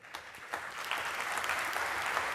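An audience at a talk at the Antonianum gives soft, continuous applause, fairly quiet and distant, with a few sharper claps at the start.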